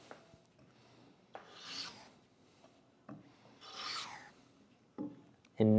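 A hand plane takes light wood shavings, making three rasping strokes of about a second each at a steady pace, with short quiet gaps between them and a sharp knock at the end.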